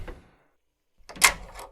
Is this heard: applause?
no